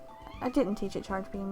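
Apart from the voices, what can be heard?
angry cat meowing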